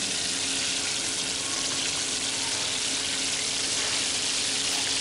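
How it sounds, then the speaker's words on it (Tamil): Fish pieces frying in hot oil at an outdoor waterfall cooking spot, giving a steady, loud, broadband sizzle that holds evenly throughout with no talking. "இப்போ எண்ணெயில் போட்டு நம்ம பொறிச்சு எடுத்துக்கலாம் மீனை."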